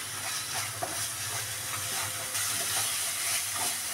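Chicken frying in a pan with green chili paste, a steady close sizzle and hiss with faint scraping of stirring throughout.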